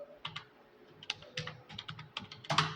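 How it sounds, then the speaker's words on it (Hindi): Quick, uneven keystrokes on a computer keyboard while entering data in Tally ERP-9, light clicks in short bursts, close and quiet, with no talking. "Alt C प्रेस करेंगे कीबोर्ड में"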